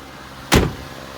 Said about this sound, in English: we will pull the trunk latch if we can get it to latch